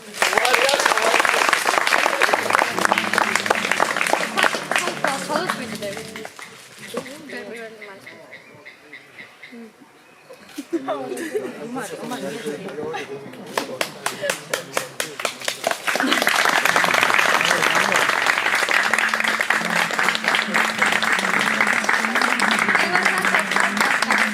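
Wedding guests at a registry office ceremony applaud the newlyweds in long, dense rounds of clapping that fade to a quieter stretch of scattered claps and talking, then swell back to full, sustained applause.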